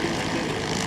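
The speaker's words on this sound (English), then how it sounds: "I think these are like little Cessna-like planes." Small Cessna-like propeller plane engine idling or running up at an airfield, a steady droning rumble with an even buzzy texture, moderately loud and continuous throughout.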